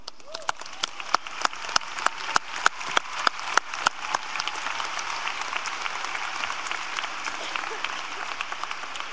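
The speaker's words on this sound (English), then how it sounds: "And before I hand you over to Mr. Dickey, let's have a round of applause." A graduation audience gives a round of applause, with loud distinct claps at first that blend into a dense, sustained clapping wash lasting the whole clip.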